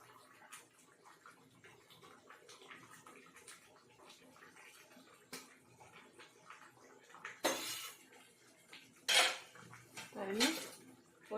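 Washed fish dropped into a pot of thick, boiling fish curry: three sharp clattering, splashing bursts near the end, each louder than the quiet kitchen background before them.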